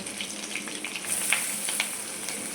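Finely chopped onions fry in a pan in a home kitchen, producing a continuous crackling sizzle with small pops and bursts, close and steady throughout.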